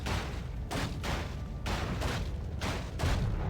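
Cannon tower fire during a Warcraft III match, heard as a dense, steady barrage of booming impacts with rhythmic bursts recurring about every second, continuous and fairly loud throughout.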